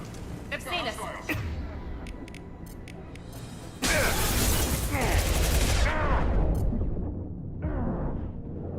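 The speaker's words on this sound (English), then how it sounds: "Blue Suns and Vorcha shooting anything that moves" Blue Suns mercenaries and Vorcha trade gunfire in Mass Effect: scattered shots first, then a dense, loud fusillade of rapid bursts and impacts that eases into lighter firing, with voices in the mix.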